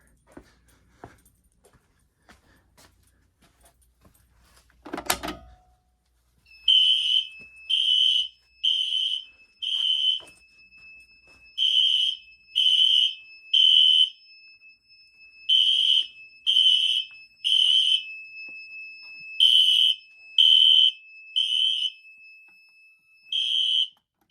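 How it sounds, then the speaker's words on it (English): A fire alarm system test on the Zone 3 BG12 pull station: a sharp mechanical clack, then loud electronic alarm blasts sounding in evenly spaced groups of pulses that repeat in a temporal pattern, with no talking. "let's go ahead and do Zone 3, which is the BG12 right here."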